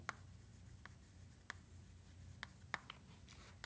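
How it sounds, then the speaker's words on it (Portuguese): Marker or chalk on a board during a math lesson gives faint, sparse scratchy strokes and taps at irregular intervals over quiet room hiss, with no talking. "eu vou escrever aqui do lado"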